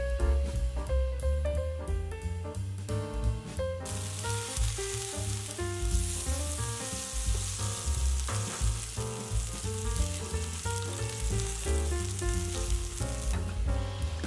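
Halved cherry tomatoes sizzle in a pan of olive oil over medium heat, a constant loud crackling fry that holds for the whole stretch under background music.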